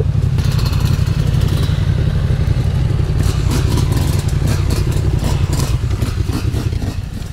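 A trail motorbike rides through muddy woods, its engine droning loudly and steadily up close with repeated revving surges and rattling clatter throughout.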